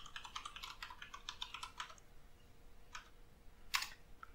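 Computer keyboard typing during password entry while setting up a new user on a Hyper-V virtual machine: a quick run of clustered key clicks for about two seconds, then a pause and a few isolated keystrokes, close and clear with no talk.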